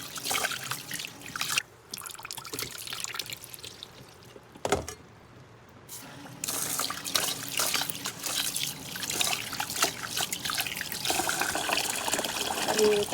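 Glutinous rice being washed for mango sticky rice: water trickles, drips and pours close by, with sloshing and brief pauses, in a fairly steady wet texture and no clear voices.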